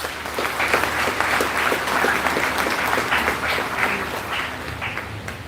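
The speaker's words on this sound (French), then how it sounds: "Et je voudrais que nous nous acclamions." A congregation claps together in a church for several seconds, a steady dense patter of many hands, fairly close and sustained with no voices over it.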